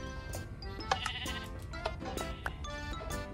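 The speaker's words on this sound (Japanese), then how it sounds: "次はね、羊とヤギをね紹介していきたいと思います。" Sheep and goats bleat repeatedly in the video game Minecraft, several short, close, wavering cries overlapping one another against a steady background.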